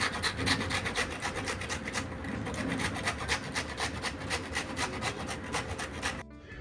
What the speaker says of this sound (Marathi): आपल्याला आता हे फ्लावर किसून घ्यायचं आहे